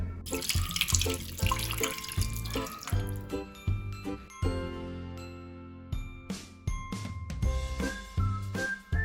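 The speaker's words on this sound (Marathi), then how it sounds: "तुम्ही पाहू शकता अशा पद्धतीने मी कारले धुतलेलं आहे" Bitter gourds being washed under a running kitchen tap splash and gurgle in the sink, with water streaming steadily and intermittent clinks and knocks as the vegetables are handled.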